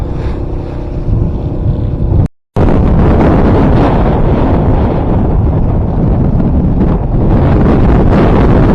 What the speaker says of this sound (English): And there's the wind.